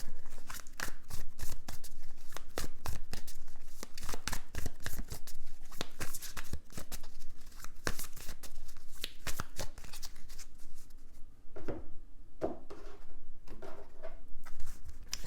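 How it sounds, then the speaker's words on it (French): Tarot cards being gathered and covered on a surface: dense, rapid papery flicks and shuffling rustles close by, continuous for the whole stretch with a brief softer patch near the end. "On va recouvrir les cartes."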